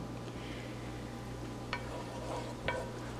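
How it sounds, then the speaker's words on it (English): Garlic and finely chopped rosemary, parsley and thyme sizzle gently in olive oil in a skillet, a soft steady crackle with a couple of brief clicks of a utensil against the pan. "I'm gonna sizzle that until it's fragrant"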